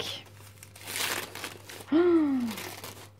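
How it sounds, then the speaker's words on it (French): Paper rustles and crinkles as it is torn open, a close, brisk crackling, followed by a brief high voiced exclamation. "Bon là je craque le papier."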